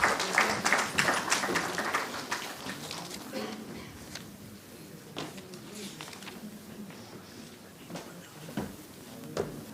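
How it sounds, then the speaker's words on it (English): Applause from a symposium audience for a senior faculty guest of honor, loud at first and then thinning into scattered claps that fade over several seconds. "So please give him a very big round of applause."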